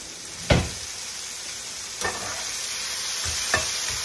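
Bacon sizzles on a Traeger smoker grill set to 220 degrees, a steady broadband hiss broken by three sharp pops or taps spaced about every second and a half.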